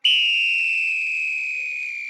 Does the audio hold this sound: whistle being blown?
yes